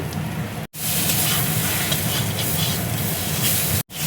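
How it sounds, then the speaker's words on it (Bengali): Raw mustard oil poured over cooked banana flower (mocha) in a hot pan gives a loud, steady sizzling hiss, broken by two very brief cuts. "উপর দিয়ে দেখো একটু কাঁচা সর্ষের তেল আমি দিয়ে দিচ্ছি"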